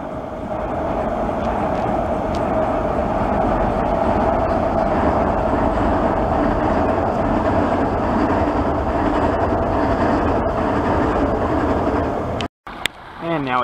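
A passenger train rolls across the Meadowbank rail bridge with a steady, loud, continuous rumble and rail hum that holds for several seconds before cutting off abruptly near the end.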